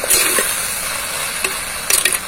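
Okra (ladies finger) frying in a pan in a village kitchen, a steady bright sizzle throughout with a few sharper stirring scrapes near the start and end, close and moderately loud.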